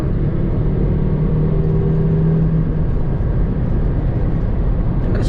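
A Volvo V70R wagon's engine pulls steadily under acceleration in fourth gear, a continuous loud low rumble and whir with road noise throughout, heard from inside the car.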